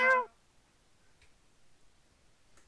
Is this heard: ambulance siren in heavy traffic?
no